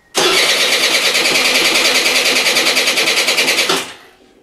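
A Piaggio Gilera Runner scooter with new fuel injection cranks steadily for nearly four seconds without catching, a loud, close, rapid whirring starter rhythm that stops abruptly.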